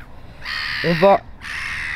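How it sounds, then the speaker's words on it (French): Seagulls squabble in harsh, cawing calls, with a loud run of squawks in the middle and steady shrill crying before and after, close to the listener. "Nous assistons en direct à une dispute conjugale de mouettes."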